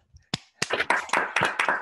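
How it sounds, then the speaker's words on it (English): A small audience at a talk on democracy gives a short round of applause for the speaker, a handful of distinct, close claps building into a brief ragged burst. "everyone can join me in giving you a round of applause"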